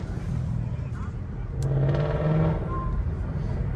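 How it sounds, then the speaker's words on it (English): A car's exhaust note swells as it pulls away at an outdoor Sunday car meet, a loud, steady engine rumble that builds mid-clip and then holds under crowd background noise. "It's all about that exhaust note."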